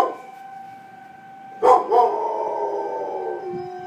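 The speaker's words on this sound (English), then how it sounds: "And now my dog is howling." A dog howls in a long, wavering tone that rises then holds steady for a couple of seconds, fairly close, over a quiet background hum, during a tornado warning in Ypsilanti.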